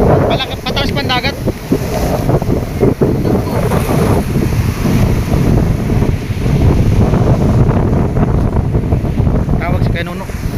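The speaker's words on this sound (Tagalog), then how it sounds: "Malaki, pataas pa ang dagat." Large, rising sea waves crash and surge near a Philippine coast under strong wind buffeting the microphone, a loud continuous roar with people talking over it.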